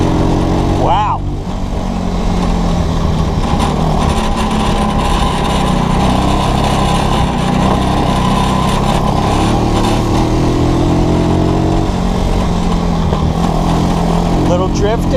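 Loud and close, the small engine of an ATC 200S side-by-side go cart drones steadily and rough throughout, with voices faintly mixed in.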